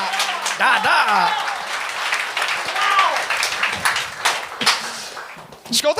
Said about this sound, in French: Un tonnerre d'applaudissements pour Danae Beaulieu!